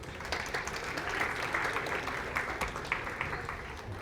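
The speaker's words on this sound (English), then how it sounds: "Let's give them a round of applause as they come on up here." An audience at a conference on AI-driven transformation gives a steady round of applause as presenters come up, a dense, moderately distant wash of clapping lasting the whole clip.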